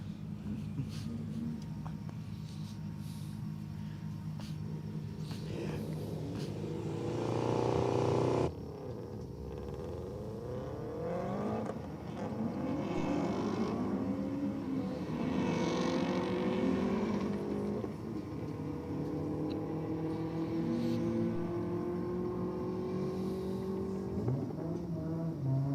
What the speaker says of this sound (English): I've got this little Pulsar down here, guys. Sounds like it's got a little turbo, potentially underneath the bonnet of it. Is taking on the Subaru WRX.